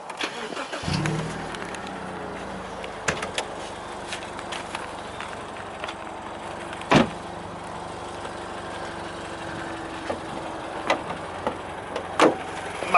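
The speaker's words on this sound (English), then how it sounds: "let's get the engine running and have a look under the bonnet" A BMW Z4 engine cranks and catches, settling into a steady idle with a few sharp clicks and knocks nearby.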